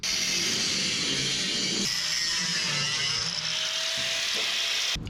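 Sheet metal cut out of the firewall area of a 1963 Loadstar truck with a high-pitched power tool, a steady close whining buzz that wavers slightly and stops abruptly at the end, no talking.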